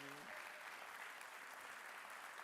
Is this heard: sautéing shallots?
no